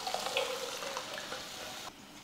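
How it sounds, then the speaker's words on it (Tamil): Water added to a pressure cooker while rinsing it, a brief splashing, sizzling pour lasting about two seconds, then stopping, close and without talk. "குக்கரை கழுவி தண்ணி சேர்த்துக்கலாம்"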